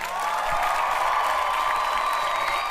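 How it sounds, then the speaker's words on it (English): Crowd cheering and clapping, a sustained loud roar with shouts and whistle-like tones over continuous applause, steady from start to finish. "let's go ahead and clap it up"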